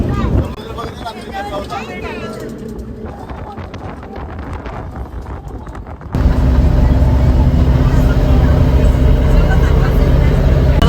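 Steady road noise from a car heading toward Udupi, Karnataka, with a low engine rumble and wind throughout; the cabin sound grows louder and denser about halfway through, and voices talk over it early on.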